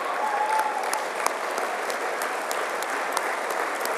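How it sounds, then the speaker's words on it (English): Sustained applause from a large audience at a political party leader's dinner in a Toronto convention hall, steady and dense throughout with a few sharper claps standing out. "can we give him a round of applause?"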